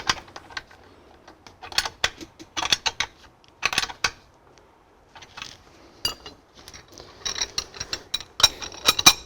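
Wrench loosening bolts on a Horse HR10 engine during teardown, heard as scattered metallic clicks, ratchet ticks and clinks in irregular bursts with quiet gaps, close by.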